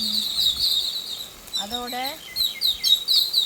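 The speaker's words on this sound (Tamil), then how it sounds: "புளிஞ்சி குருவி கத்துது பார்த்தீங்களோ." A puliñci kuruvi bird calls outdoors in a village kitchen, a series of high, bright chirps repeating throughout, with a brief voice speaking in the middle.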